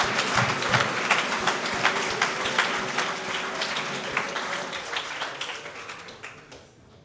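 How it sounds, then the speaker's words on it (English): A room of people at a party convention candidate debate applauds steadily, a dense patter of many hands that holds, then tapers away at the end. "Can we give a round of applause for them,"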